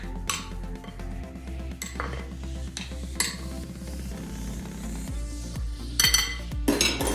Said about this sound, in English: now what we're gonna do is just go ahead and mix the beef together